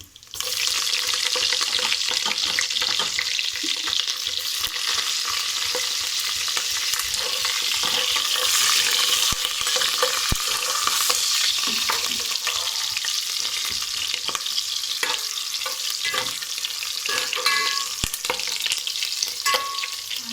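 Green chillies fry in hot oil for tomato rice, giving a loud, dense, continuous crackling sizzle with sharp pops throughout, close to the pan and with no talk.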